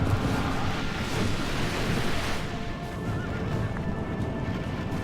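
Cavalry horses charge in the video game Medieval II Total War: Britannia, Wales campaign, with neighing and whinnying over dense hoofbeats and a thick, loud, continuous battle roar.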